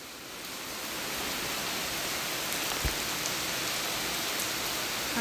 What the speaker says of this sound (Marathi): 3 दिवसांनी पडलाय आज पाऊस